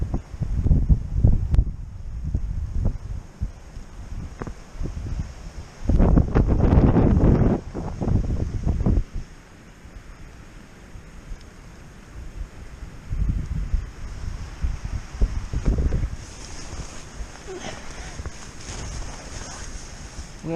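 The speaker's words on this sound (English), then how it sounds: "It's a bit of a wind tunnel, but if it stays like this it'll be alright." Wind gusts through a valley at a wild campsite in Hartsop Valley, rising into loud rumbling blasts against the microphone and tent, then easing back to a steady, softer rush between gusts.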